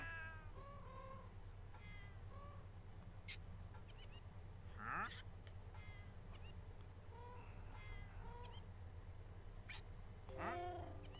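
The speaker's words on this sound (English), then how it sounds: "I'm waiting so patiently right now for this cat to just be tamed." Cats meow repeatedly in Minecraft, the video game: a series of short, faint mewing calls spaced across the clip, with a louder sliding cry near the middle, over a quiet steady background hum.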